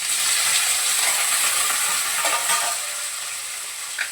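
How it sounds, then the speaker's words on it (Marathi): Boiled potato fries in a pan while being stirred, giving a steady close sizzle with scraping stir sounds that ease slightly toward the end. "आणि उकडलेला बटाटा होता फ्रीजमध्ये तर तोच टाकते मी आता इथे"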